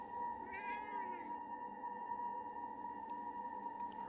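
In the Forspoken video game, a cat gives one short rising meow followed by fainter mews, all quiet and set against a steady electronic background tone.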